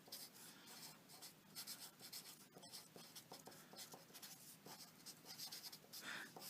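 Quiet writing on a board during a maths lesson, with scratchy strokes and taps in short bursts, close and soft, and a faint voice in places.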